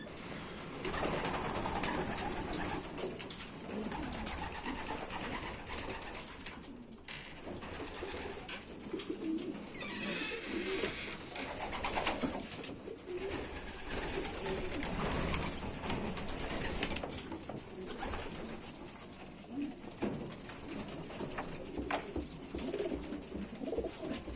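Domestic pigeons coo steadily in a loft, several birds overlapping in low, throaty, rolling calls that continue without a break, close and fairly loud.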